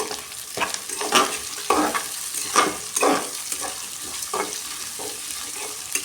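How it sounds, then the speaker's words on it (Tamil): Ginger, curry leaves and finely chopped onions sauté in a hot pan for a pomegranate curd rice tempering, giving a steady close sizzle broken by repeated scraping strokes of a stirring spoon. "குட்டி குட்டியாக வெங்காயம் கட் பண்ணி வச்சுருக்கேன், அதுவும் போட்டுக்கலாம். நல்லா வதக்கி விட்டுக்கணும்."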